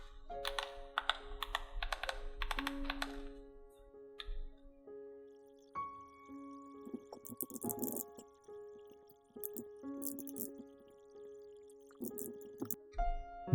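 Steady typing on an external computer keyboard hooked up to a DIY handheld cyberdeck for setup, key clicks coming in quick close bursts with pauses between them, no talking.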